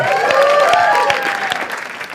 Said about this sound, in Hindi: एक बार जोरदार ताली for अपूर्वा also